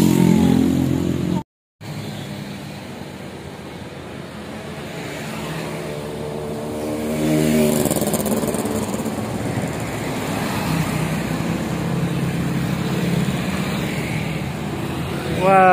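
A Primajasa Super Executive bus heading west from Tasikmalaya and a motorcyclist heading toward Tasik pass on the road, with engine noise and a rising rumble as the vehicles go by, and a voice talking over it.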